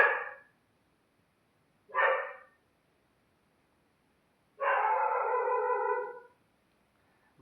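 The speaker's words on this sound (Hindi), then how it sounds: "भाई ये साउंड इफेक्ट जो कुत्ता दे रहा है ना, ये मेरी फाड़ रहा है" A dog howls at night in three separate calls: two short cries, then a longer sustained one lasting over a second. Each call stands alone against near silence and sounds moderately close.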